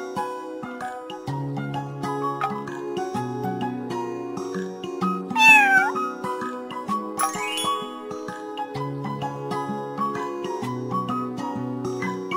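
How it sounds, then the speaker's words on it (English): A cartoon cat meows over bright, tinkly children's music in an animated animal-names lesson, with one or two clear meows rising midway above the steady melody. "Cat."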